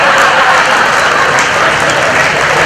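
Sustained audience applause fills a live comedy show in Mehsana, a steady, dense wash of clapping from a large crowd that holds at full volume throughout.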